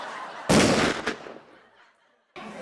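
Gunshot sound effects on a comedy stage show: a sharp loud burst followed by a quick second shot, a fading tail, a brief silence, then another burst starting at the very end.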